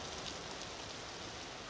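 Rain falling outdoors, a steady, soft hiss of drops with no distinct individual impacts, faint throughout.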